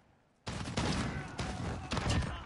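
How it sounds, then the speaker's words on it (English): Pistol fire in the video game Modern Warfare: quiet at first, then a sudden onset of rapid gunfire bursts repeating in clusters, loud and close, with no talk. "Oh, that's a pistol."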